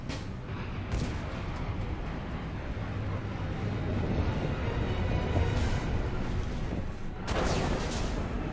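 Explosion in Mass Effect 2, a broad rumbling roar that swells and sustains for several seconds, with sharper noisy bursts near the start and end, no voices over it.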